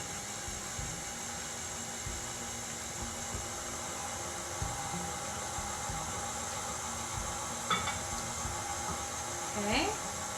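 An electric mixer whirs steadily while beating low carb chocolate brownie batter, a faint continuous motor drone with a couple of brief clinks near the end.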